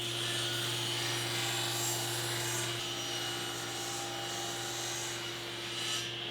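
A table saw ripping wooden shop stool parts to final width, a steady loud whine with a constant hum and a rough cutting hiss, continuous and close.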